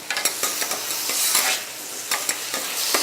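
Beef sizzling and frying in a pan while being stirred, with a steady hiss broken by repeated scraping stir strokes, close and moderately loud, no voices.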